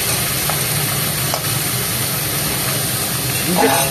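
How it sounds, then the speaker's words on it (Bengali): Chicken sizzling as it fries in a pan, a steady broadband crackle that runs the whole way through at a close, even level, with a brief scrape of stirring near the end. "কি হচ্ছে? ফ্রাই হচ্ছে।"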